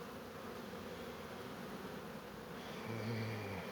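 Carniolan honeybees hum steadily around a 10-frame hive being set up for winter, a dense continuous buzz that swells slightly louder near the end, with no voices.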